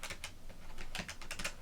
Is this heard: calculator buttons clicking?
yes